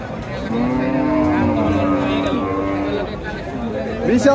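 Cattle moo loudly and at length at a cattle market, a deep drawn-out lowing over a busy background of crowd chatter, with a second shorter call near the end.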